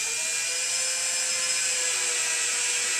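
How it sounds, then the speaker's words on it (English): A power drill with a 1/8 inch bit whines steadily and close up as it pre-drills holes in a workstation desk, a continuous high-pitched spin with no pauses. "Go ahead and pre-drill the holes, and we're using an 1/8 inch drill bit."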